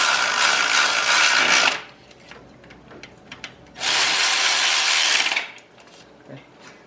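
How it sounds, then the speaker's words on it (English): A Milwaukee power ratchet snugs bolts on a GM 4L60e transmission pan, two loud close whirring bursts of about two seconds each with quieter clinks in the pause between them. "I'm actually going to use my Milwaukee ratchet snug up these bolts up top,"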